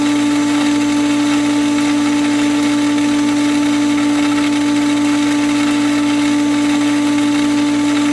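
A pool filter pump running through a backwash, a loud, steady mechanical drone with a strong motor hum that holds unchanged from start to finish, no speech.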